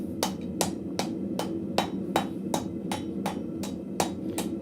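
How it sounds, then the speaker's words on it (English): A cross peen hammer strikes a hot steel arrowhead against an upright on a blacksmith's shelf, about a dozen sharp, ringing blows in a steady, evenly spaced rhythm, close and clear with no talking. "We're going to hit with our cross peen right into that kind of upright on our shelf."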